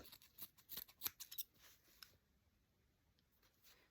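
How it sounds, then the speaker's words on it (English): Scissors snipping a roundish shape out of fabric, a quick run of soft close crisp cuts in the first two seconds, then a few faint isolated snips in a quiet room. "I'm going to start by cutting a roundish shape from this material"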